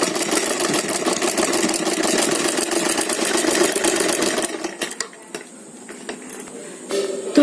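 A sewing machine stitching a short suit made from a long kurti, a steady mechanical whir running continuously for several seconds, then stopping briefly before restarting.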